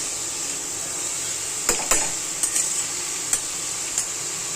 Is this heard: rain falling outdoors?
no